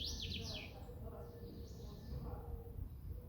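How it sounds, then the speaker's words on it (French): Outdoors, a few bright bird chirps sound briefly near the start, then fade under a steady low background rumble. "Peut-être le chant des oiseaux,"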